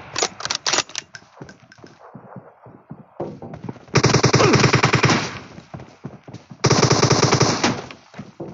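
Automatic gunfire in the video game PUBG, two long loud rapid-fire bursts preceded by scattered single shots and clatter, close and dominant.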